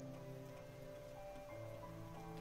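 Steady rain falls in the video game Night in the Woods, a continuous even hiss of drops on surfaces filling the whole stretch with no voices.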